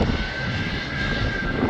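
A KLM passenger jet departs from a stand at Schiphol Airport in the Netherlands, its engines giving a loud, steady roar with a high whine running through it.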